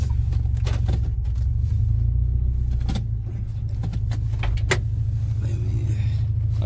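A lowered car creeps slowly over a rough road, its engine a low continuous rumble under scattered knocks, clicks and rattles from the bumpy surface.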